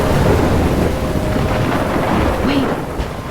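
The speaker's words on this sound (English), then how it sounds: "I'm trapped in a storm?" A storm in the game Life is Strange sends deep thunder rumbling under constant rushing wind and rain, loud and enveloping throughout with a slight swell near the end.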